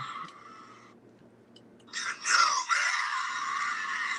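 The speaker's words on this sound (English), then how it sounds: "it's just Darth Maul screaming Kenobi" A scream of "Kenobi" from Darth Maul, played back as a clip, rising sharply into a loud, harsh, drawn-out cry after a quieter start, with a second surge trailing off.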